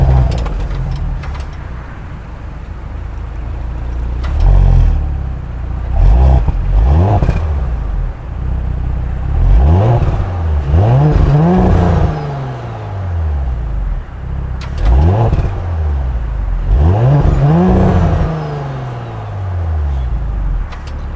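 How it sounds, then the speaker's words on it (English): A 2020 Audi S5 convertible with quad exhaust outlets revs repeatedly, each loud rising and falling sweep of engine and exhaust note separated by quieter idle, close by. "that exhaust system sounds absolutely fantastic"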